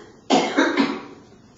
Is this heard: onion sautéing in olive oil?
no